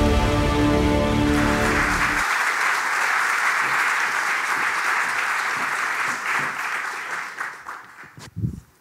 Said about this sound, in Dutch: Mag ik uw applaus voor journalist en podcasthost